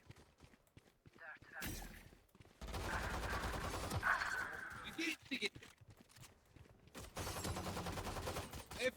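Gunfire in the tactical shooter Valorant during a deathmatch, with bursts of rapid automatic shots in two main stretches, loud and close, while a player talks between and over them.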